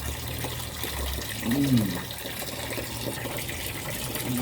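Fish being washed under running water, a steady moderate stream of water pouring and gushing with faint splashing, heard under a voice and background sound.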